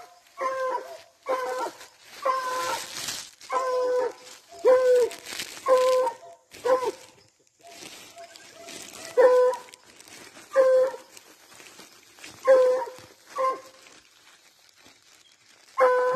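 Several hunting dogs on a paca hunt bark and yelp excitedly at a moderate distance, in repeated bursts with short pauses, some high whimpering notes mixed in.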